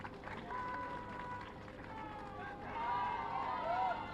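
A crowd at an official statue unveiling ceremony breaks into applause, a broad patter of clapping under a murmur of voices that grows louder toward the end.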